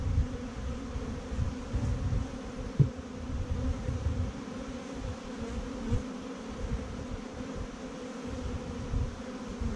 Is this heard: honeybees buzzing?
yes